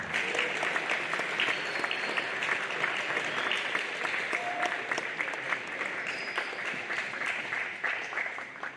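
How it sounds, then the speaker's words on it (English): A school assembly crowd claps in a sustained round of applause, dense and steady throughout with no pauses, the many hands blending into a continuous wash from a large room of students. "you can give yourself a round of applause for that"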